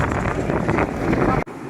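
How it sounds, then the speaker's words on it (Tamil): Strong wind roars steadily across the misty hilltop of Himavad Gopalaswamy Betta near Gundlupet, buffeting the microphone with a dense rushing noise that cuts off abruptly near the end. "காற்று சும்மா அடிச்சுக்கிட்டே இருக்குது"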